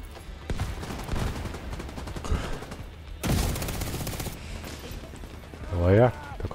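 Gunfire in The Division 2 video game: repeated bursts of rapid automatic fire and scattered shots, loud and close, with a short gap near the middle and a voice briefly over the game sound.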